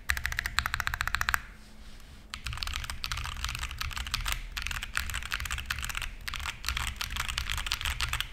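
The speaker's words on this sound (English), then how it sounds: "I like yellow switches because I feel like their sound is just a bit more pleasing." Fast, close typing on a mechanical keyboard with yellow switches, a dense clatter of crisp keystrokes that stops for about a second, then resumes in steady bursts.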